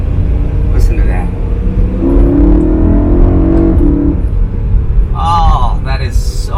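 A BMW E92 M3 engine rumbles from inside the cabin and climbs in pitch as the car accelerates, with a low, steady drone and brief noises on top.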